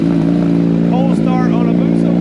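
A 2022 Suzuki Hayabusa motorcycle engine cold-starts loud and close, with a steady low throb and a couple of quick revs rising over it.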